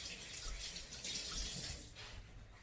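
Tap water running at a kitchen sink while vegetables are rinsed, a steady close hiss and splash that continues throughout, with no talking.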